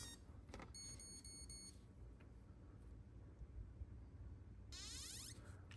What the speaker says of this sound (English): listen for a long beep from the motor